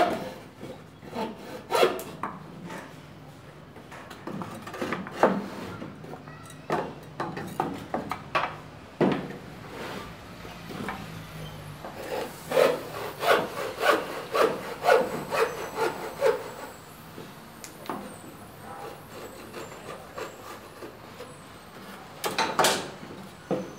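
Hand saw cutting wood while building a vertical shelf for flowers or ornaments: a long run of steady rasping back-and-forth strokes, close and fairly loud, with brief pauses between passes.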